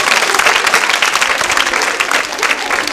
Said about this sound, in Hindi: तालियां जोरों से बजाइए सोनल जी के लिए।